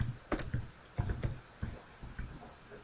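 Computer keyboard keys tapped while entering a username in Photoshop: a short, uneven run of crisp, close clicks with small pauses between bursts, and no voices.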